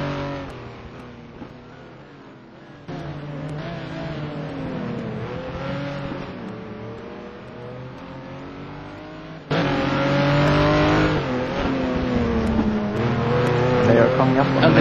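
Race cars, a Corvette among them, roar around the Mugello circuit, with engines rising and falling through gear changes and a louder car surging close near the end, all under steady commentary.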